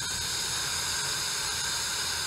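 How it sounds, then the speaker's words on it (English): Steam hisses steadily out of a wood-fired rocket stove steam boiler under test, a constant, loud, broadband rush that holds even from start to finish with no pauses and no voices. "a constant flow of steam coming out of it while testing"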